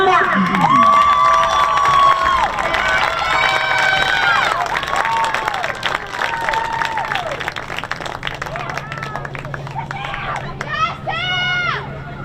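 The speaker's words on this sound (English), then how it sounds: "Please give one more round of applause for all of our second team All-State selections." Crowd cheering and applause for second-team All-State selections at a girls' lacrosse all-star game, with loud, high-pitched cheers and shouts rising over steady clapping throughout, sharp squeals near the end.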